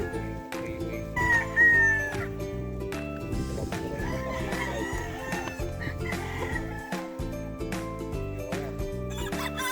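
A gamefowl rooster of the Sweater Boston Grey line crows, with more crowing and clucking from other fowl around it, fairly faint and at a middle distance.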